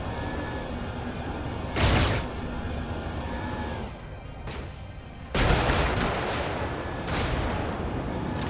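Gunfire from the top-down mech combat game Brigador: loud, dense bursts of shots and blasts that hit hard at the start and again midway, then carry on over a steady roar of battle noise.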